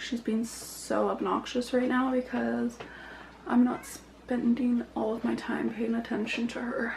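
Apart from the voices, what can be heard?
No distinct noise like a dog, phone or traffic.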